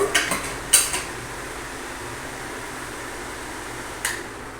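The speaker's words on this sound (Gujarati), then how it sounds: "ગેસ ઉપર કડાઈ મૂકી દીધી તકવા" A metal kadai clatters onto a gas stove in a home kitchen, a few sharp clanks followed by a quiet fan-like hiss and one more light knock.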